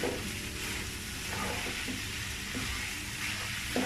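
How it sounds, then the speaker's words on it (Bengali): Rice, lentils and vegetables fry together in a pot over medium heat for khichuri, giving a steady, even sizzle that stays close and fairly quiet with no pauses or talk. "চাল, সবজি, ডাল আমি এগুলো সবগুলো একসাথেই কষিয়ে নিব ধৈর্য ধরে আস্তে আস্তে বেশ কিছুক্ষণ,"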